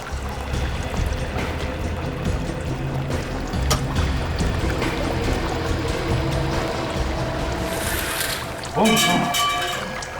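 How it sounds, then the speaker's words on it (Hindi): Steady rushing water flows continuously, like a stream or current, with a brief louder splash near the end and faint background activity. "पानी बहने की आवाज आ रही है।"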